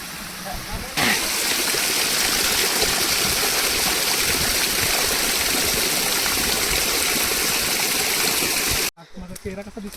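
Steady rushing water runs nonstop for several seconds, a loud broadband wash of a stream tumbling over stones on the Panhala to Pavankhind trek trail, cutting off abruptly near the end.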